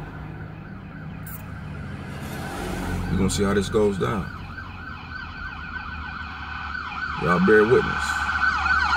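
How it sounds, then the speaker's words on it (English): A wailing ambulance siren sounds in the background during a police traffic stop while someone talks over it, steady and moderately distant throughout. "That wasn't backup, that was the ambulance."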